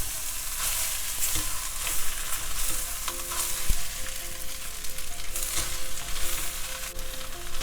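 Spicy spinach fried rice with eggs and siru keerai greens is stirred and fried in a pan, a steady bright sizzle with repeated scraping and clinking strokes of the spatula throughout.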